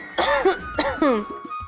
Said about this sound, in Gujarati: બહુ ખાંસી થઈ ગઈ છે ને